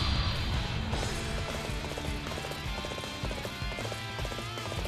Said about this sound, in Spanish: Caballo, caballo, caballo, gracias.